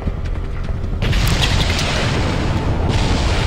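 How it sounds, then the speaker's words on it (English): A rocket blast in the Resident Evil 4 video game, one loud, heavy boom that swells into a sustained roaring rumble and crackle lasting several seconds, close and dominant with no speech over it. "They shooting rockets and shit?"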